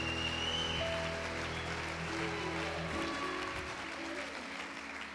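Church congregation applause rises as a soft, continuous patter at moderate distance, mingled with sustained organ or keyboard tones and faint murmuring.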